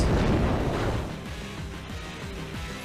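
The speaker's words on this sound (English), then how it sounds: "He goes for Explosion." The Explosion move in Pokémon Omega Ruby goes off as a loud, broad burst right at the start, then fades into a rhythmic, decaying game effect over a few seconds.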